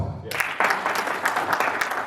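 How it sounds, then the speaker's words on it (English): An audience at a political meet-and-greet with a BJP leader breaks into applause after a brief lead-in, irregular claps from a crowd sounding fairly close and steady for a couple of seconds. "please give me an applause"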